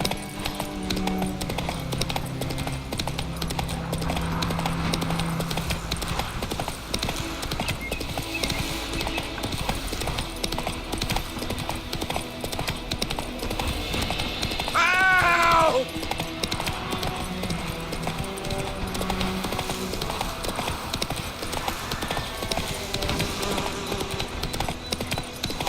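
In The Witcher 3, the horse Roach's hooves clip-clop in a steady, unbroken gallop rhythm, with game music and a brief whinny-like cry midway.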